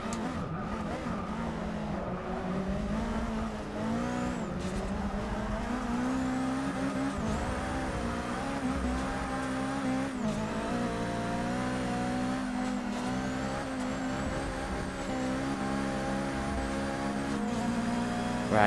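Race car engine in Forza Motorsport 6 holding a high, steady drone in 6th gear, with rising and falling pitch sweeps, tyre squeal and passing cars mixed in, loud and continuous throughout.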